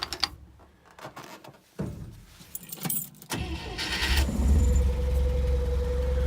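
Scout 80 four-wheel-drive vehicle with front axle disengaged, pulling away in low gear; a few clunks and rattles first, then a steady low engine drone that builds and holds, near and moderately loud.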